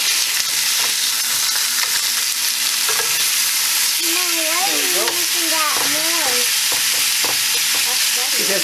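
Beef sizzles and fries loudly as it browns in a pan, a constant crackling hiss with occasional stirring scrapes and squeaky utensil sounds partway through.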